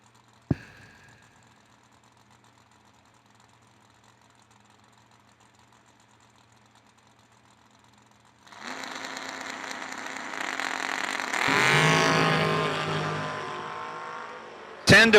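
A Ford Mustang and a Chevrolet Camaro drag race, starting with a sharp bang amid a quiet lull before engines roar up loud, revving and building to a peak, then falling away.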